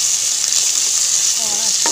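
Finely chopped onion frying with garlic for a fish head curry, a loud, dense, even sizzle right up close with a faint stir or scrape toward the end, no voices.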